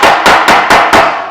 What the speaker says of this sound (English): using the hammer like that on the panel